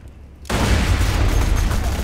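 A rapid series of grenade explosions in the video game Borderlands 2 bursts in loud and sustained after a quiet half-second start, a dense rumbling barrage of overlapping booms.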